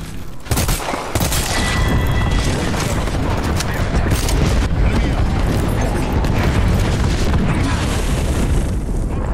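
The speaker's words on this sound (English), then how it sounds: "Signaling an airstrike." Apex Legends airstrike bombardment: a dense, continuous barrage of loud booming explosions and rapid blasts rolls on for the whole stretch, thick and sustained with no pause.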